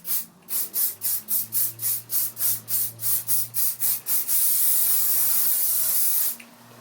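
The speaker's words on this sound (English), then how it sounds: "I'm just going to loosely hairspray all of the little curls everywhere so that everything stays" R & Co flexible hairspray pumped over small pinned curls in a quick run of about fourteen short, even spritzes, then one long continuous hissing spray lasting about two seconds, close and fairly loud with no talking.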